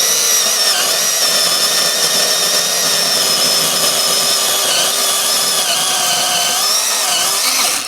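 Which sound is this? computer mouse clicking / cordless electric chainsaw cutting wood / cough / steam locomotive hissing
cordless electric chainsaw cutting wood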